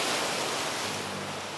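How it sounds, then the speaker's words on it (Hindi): High-tide sea waves dash against coastal rocks on the Ratnagiri shore of Konkan, Maharashtra, a loud, steady, rushing wash of surf with no speech. "इन रॉक्स से जब पानी टकरा रहा है ना, तो कितना अच्छा लग रहा है।"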